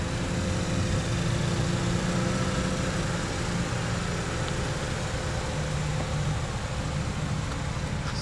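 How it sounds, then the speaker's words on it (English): A 2015 GMC Terrain SLT-1 FWD idles steadily after a remote start, a constant low engine hum with a faint whine, close and unbroken, with no voices. "push and hold the remote start until the engine starts"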